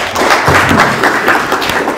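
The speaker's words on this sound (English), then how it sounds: "a round of applause for Sita Shah" Audience applause for presenter Sita Shah, a dense, steady clatter of many hands clapping close by for about two seconds with no voices over it.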